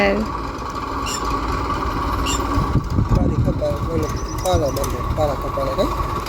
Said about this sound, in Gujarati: ટ્રેક્ટર હાલે રામદેભાઈ